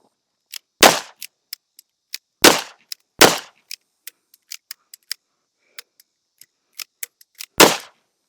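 A pistol fires from the hip at targets, four sharp loud shots spaced out, with many lighter clicks and metallic ticks scattered between them at close range.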